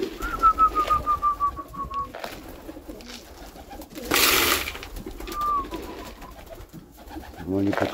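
Pigeons coo softly nearby in low, repeated calls, with a whistle, a burst of rustling noise, and some talking mixed in.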